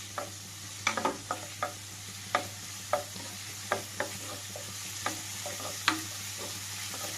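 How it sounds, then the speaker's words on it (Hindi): Onions and tomato stirred constantly in a pan over a high flame for a Jodhpur-style gulab jamun curry, with a steady sizzle under a run of sharp spatula scrapes and taps every second or so, and no voices. "एक टमाटर डाल रही हूँ इसमें। लगातार चलाते रहेंगे, हाई फ्लेम कर लेंगे।"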